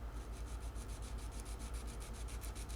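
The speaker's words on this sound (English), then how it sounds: "I'll sand with a little 220 grit sandpaper" Steady, even back-and-forth rubbing of 220 grit sandpaper on a mahogany guitar neck at the scarf joint, close and continuous with a regular stroke rhythm, fairly quiet, no talking.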